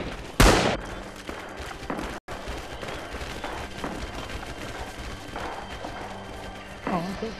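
Gunfire in the Red Orchestra 2/Rising Storm military video game, a sharp loud shot near the start followed by a continuous rumble of distant battle noise with scattered muffled shots.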